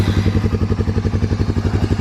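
A Honda 300 engine runs right after being cranked, a close, loud, steady low chugging with rapid even pulses and some mechanical clatter.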